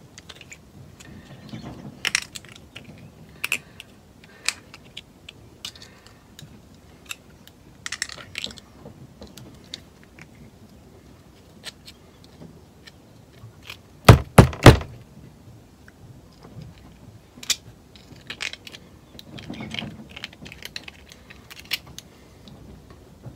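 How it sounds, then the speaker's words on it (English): Packing nuts being removed from the carburetor of a 1967 Evinrude outboard motor, heard as sparse small metallic clicks and taps from close up, with a brief sharp cluster of knocks around the middle and no talking. "I'm going to take the old packing nuts out."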